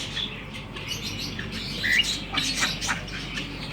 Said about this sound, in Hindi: कबूतर बेचारे तड़प रहे हैं, खुलने के लिए टाइम हो गया इन लोगों का, सबके खाने पीने का।